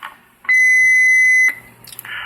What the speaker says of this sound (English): This is a Roger beep here.